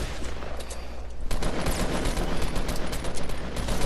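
Shots in Fortnite Battle Royale, including pump shotgun blasts, come as rapid, dense, noisy bursts of close gunfire over a few seconds, with no talk.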